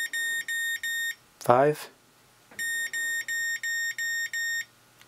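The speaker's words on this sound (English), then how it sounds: "6 short beeps meant that it would be going on to channel 7 and 8" A Spektrum DX8 transmitter emits a string of short, identical high-pitched beeps in an even rhythm, three before and five after a brief spoken word, close and clear.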